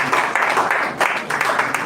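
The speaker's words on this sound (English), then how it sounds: "A round of applause for him." Applause for a chief operating officer during a live-streamed university student association event: a steady broadband patter of many hands clapping, fairly close and continuous, with no clear voices over it.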